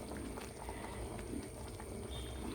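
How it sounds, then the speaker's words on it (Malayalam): Curry in a pot, freshly thinned with hot water, simmers with a soft continuous bubbling, faint and steady throughout with no talk. "ഇതൊരു 2 മിനിറ്റ് തിളച്ചാൽ വേഗം, പൊടിയല്ലേ."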